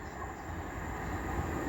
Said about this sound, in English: The next train to be coming through will be a pairing of 195s running from Leeds to Manchester